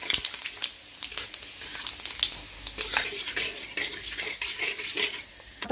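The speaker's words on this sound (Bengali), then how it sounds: "শুকনো লঙ্কা, পাঁচফোড়ন দিয়ে মশলাটা একটু ভালো করে ভাজি নিই।" Dried red chillies, bay leaves and panch phoron sizzle in hot oil for mango pickle, with a metal spoon scraping and clinking against the pan in irregular strokes, close and fairly quiet.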